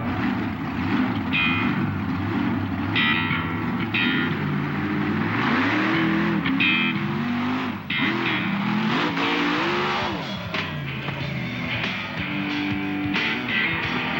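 A monster truck engine roars loud and steady at a 1997 US Truckfest in Charlotte as the truck launches over a row of parked cars, the revving rising and falling throughout.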